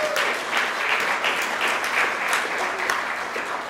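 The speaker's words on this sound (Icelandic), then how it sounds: "við skulum gefa henni gott klapp fyrir það" Conference guests at an Icelandic presidential address and award ceremony give steady, moderately loud applause for a birthday, with continuous dense clapping throughout and faint voices beneath.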